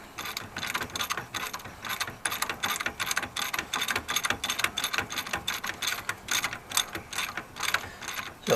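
A ratchet spanner works an 18mm nut on a Land Rover Discovery 2 TD5 during ACE ram gaiter replacement, clicking in quick repeated bursts of ratcheting strokes, close and fairly quiet, with no talk.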